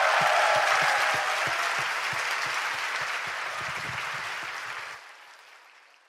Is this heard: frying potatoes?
no